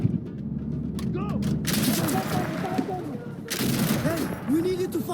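Bursts of gunfire ring out in the video game Insurgency: Sandstorm, rapid and loud in two sustained stretches, mixed with shouted voices and game sounds.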